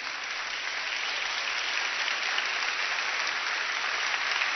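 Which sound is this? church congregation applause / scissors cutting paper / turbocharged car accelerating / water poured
church congregation applause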